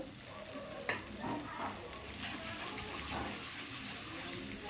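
Spiced masala paste with turmeric powder sizzling and frying steadily in a pan, with occasional stirring scrapes over a constant crackling hiss.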